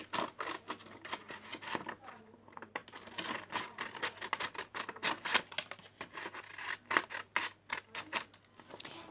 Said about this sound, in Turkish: İşte makasımız burada. Şimdi bunun kenarındaki şu dengesizliği keseceğim.